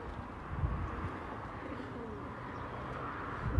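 Pigeons coo softly in a low, murmuring rhythm over a steady rushing background, faint and continuous with no voices.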